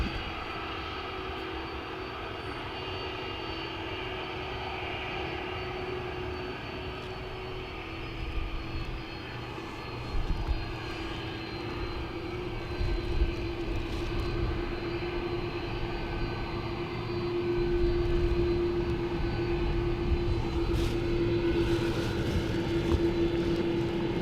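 An Aer Lingus airliner at Dublin Airport gives a steady, fairly distant jet engine drone that holds for over twenty seconds and swells slightly toward the end, with no talking.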